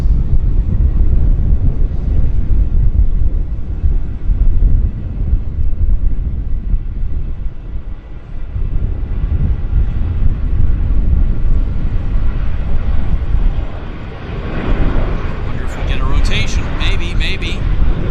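A short, stubby Boeing airliner takes off at Vancouver YVR airport, its broad, steady engine roar loud and continuous with wind buffeting the microphone, and sharper noise rising near the end.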